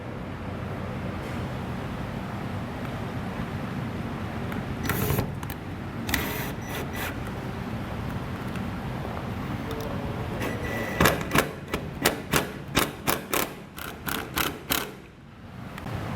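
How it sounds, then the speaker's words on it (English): Screws are driven in to mount a Gustafson 12V LED RV and utility light, with a run of sharp mechanical clicks and whirring bursts near the end over a steady background hum, heard close up. "I'm just going to use some screws to get this secured"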